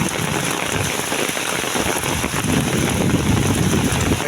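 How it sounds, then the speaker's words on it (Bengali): Heavy, unbroken rain pours down in a coastal district during a monsoon low, a loud dense hiss of drops hitting surfaces close by, steady from start to finish with no voices. "অবিরাম বৃষ্টি, সকাল থেকে বিরতিহীন বৃষ্টি আর বৃষ্টি।"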